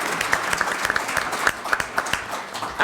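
Applause for a speaker at a Black Lives Matter conference at SIUE, a steady wash of many hands clapping in the hall with a few sharper individual claps standing out, moderately loud and unbroken for about three seconds.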